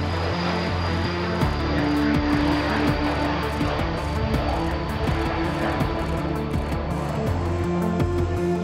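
A steady, loud jet engine roar from inside the cabin of a Falcon 20 scientific aircraft, a continuous hum with a tonal whine, no talking.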